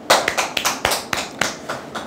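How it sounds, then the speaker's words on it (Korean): A small audience gives a short round of hand clapping at a corporate ESG and social-contribution talk, with about eight distinct claps in an uneven rhythm. The sound is moderately close and there is no talking. "박수 한번 치시죠."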